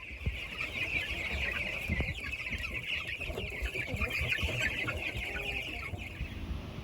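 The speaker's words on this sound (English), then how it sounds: "these chickens are ready to come out of this brooder" Meat chickens cluck and chirp continuously in a busy, steady chorus inside a brooder, moderately close, with a constant high twittering over low shuffling noise.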